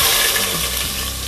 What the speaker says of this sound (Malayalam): എണ്ണ ചൂടായിട്ടുണ്ട്. നമുക്ക് ഈ പെരിഞ്ചീരകവും പട്ടഗ്രാമ്പും ഒന്ന് ഇട്ട് കൊടുക്കാം.